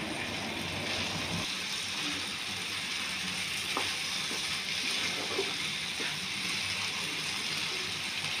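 A spoon stirs matar paneer gravy with beaten sour curd in a pan, making light scraping clicks and a soft wet sizzle over a steady hiss.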